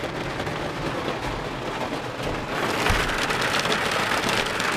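Steady rain drums on the cover of a boat being prepped for a move, a dense hiss of drops that swells louder partway through, with no voices.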